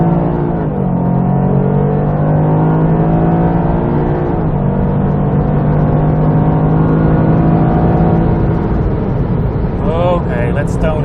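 A Toyota GR Yaris accelerates at full throttle up an on-ramp, its engine note climbing steadily through gears with brief dips at each shift, loud and close from inside the cabin, with a voice speaking faintly over it.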